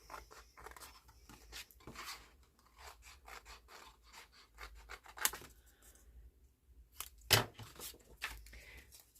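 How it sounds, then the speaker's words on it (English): Scissors cutting a paper word out for a collage folio, with a run of close, soft rhythmic snips and rustling paper, one sharper click near the end. "So cut out mushroom."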